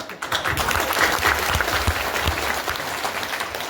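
Audience clapping fills the hall at a Mahashivratri celebration and saint's birth-anniversary festival, a steady dense applause that runs throughout at moderate loudness.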